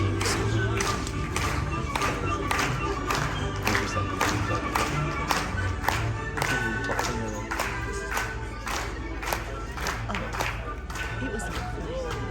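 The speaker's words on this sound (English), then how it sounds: "march nice and clean and everyone's clapping along." Diners in a cruise ship dining room clap in rhythm along to the waiters' march, sharp regular claps over band music and crowd chatter, sustained throughout at a steady marching tempo.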